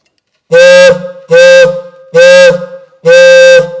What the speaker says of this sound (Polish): To jest klakson w stylu typowo amerykańskim,